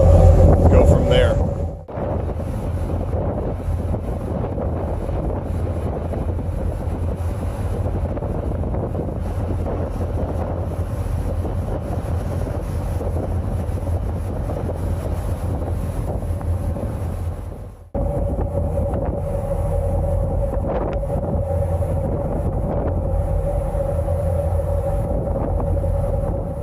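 Rough wind buffets the microphone on a ferry crossing in Scotland, a steady roaring gust with a low hum from the ship underneath, interrupted briefly by short drops, with a person talking at times.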